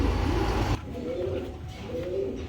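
Two pigeons from a pigeon club coo in low, throaty rolls, one call after a loud rumble at the start and another near the end, close and fairly clear.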